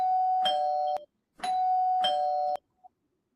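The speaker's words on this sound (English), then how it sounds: "Blowing up the doorbell." An electronic doorbell chimes loud and close in two separate rings, each a sustained two-tone ding-dong, with a brief faint blip after the second and no talking.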